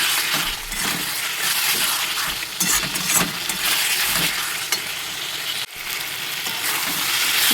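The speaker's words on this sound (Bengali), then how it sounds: "ভালো মতো কষিয়ে নেব যতক্ষণ পর্যন্ত এই জলটা শুকিয়ে তেল ছাড়বে" Ridge gourd, potato and chara pona fish fry in oil for a Bengali curry, a continuous loud sizzle with stirring scrapes and light clinks from the utensil against the pan, closely heard.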